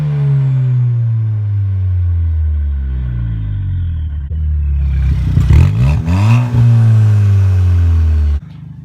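A Ford Fiesta ST running a downpipe exhaust dump idles with a loud, deep drone, then blips through a few sharp revs that rise and fall before settling back and cutting off abruptly, close up and with no speech.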